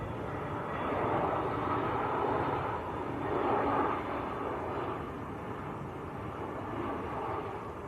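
An Airbus A320neo from Pegasus, in from Istanbul, on final approach to Manchester Airport, a broad steady engine roar heard from a distance that swells and fades gently with no talking over it.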